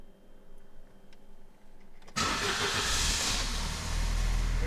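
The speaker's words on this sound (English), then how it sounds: "Let's give it a crank real quick." A 1994 Opel Astra F with a 1.8i engine cranks and fires, the quiet garage suddenly filled by a loud, steady roar that holds on as the engine settles into running.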